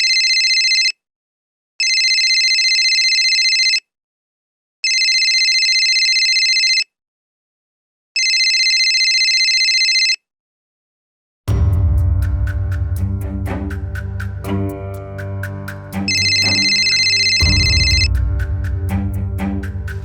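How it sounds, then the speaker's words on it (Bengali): A phone ringtone sounds for an incoming call: four steady rings with even gaps, loud and close, then a fifth ring returns over a television drama scene with music and background sound. "ঝিলি এতবার ফোন করছে কেন?"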